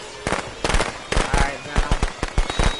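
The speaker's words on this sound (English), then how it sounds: "The fireworks should attack him." Fireworks go off in the video game Friday the 13th as a rapid string of sharp, loud crackling bursts at an uneven rhythm, with brief voices mixed in.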